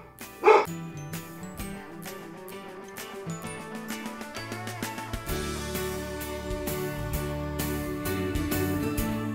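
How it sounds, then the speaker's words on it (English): A pet dog gives one sharp bark close by near the start, then instrumental music with steady beats and sustained tones plays on to the end. "No, that's my dog."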